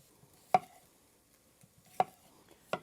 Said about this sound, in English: And it just says to cut them into 1/2-inch slices.